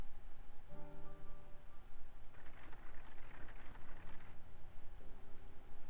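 Soft, steady rain falls in Final Fantasy XIV, a quiet even patter over a low hum, with faint tonal game music lines drifting in and out.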